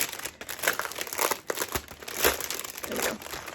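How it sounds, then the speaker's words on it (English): Plastic packaging from a quilting notions subscription box crinkles loudly and close as it is opened, with bursts of crackle and a few short tearing rustles. "I'll open these up. Sorry, this is crinkly."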